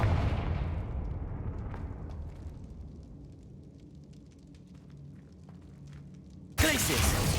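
A Confringo fire-spell blast in Hogwarts Legacy, a loud booming burst that decays into a long fading rumble, followed by a sudden new loud sound at the end.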